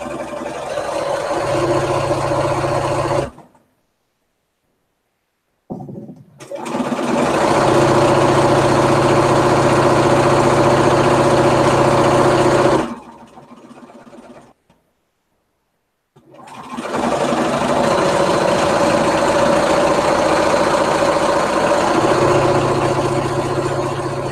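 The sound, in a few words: sewing machine running while quilting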